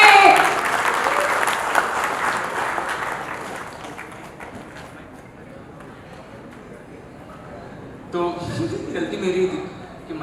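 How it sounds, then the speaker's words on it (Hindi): Applause from an audience at a Mumbai stand-up comedy show, welcoming a comedian to the stage: dense, loud clapping that gradually thins and fades, then a brief burst of voices and renewed noise near the end. "जोरदार ताली होनी चाहिए."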